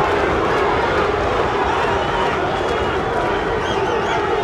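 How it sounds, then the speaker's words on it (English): A boxing arena crowd yells and roars during the first round of Ray Mercer vs Tommy Morrison, a constant loud wash of voices under a commentator's talk. "Crowd yelling Duke."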